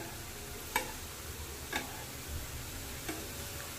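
Jalebi frying in hot oil over a lowered gas flame gives a soft, steady sizzle broken by three or four sharp, isolated crackles and pops.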